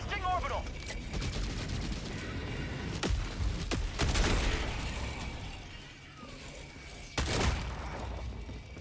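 Orbital strike bombardment in the video game Helldivers 2: several sharp, loud blasts land over dense, continuous combat noise and gunfire, with the last heavy impact coming near the end.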